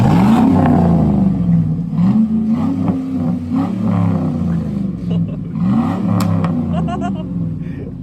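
A 2003 Chevy Silverado 1500 with new dual exhaust and chrome tips revs repeatedly, deep rising-and-falling engine swells close by, with brief voices over the rumble near the end.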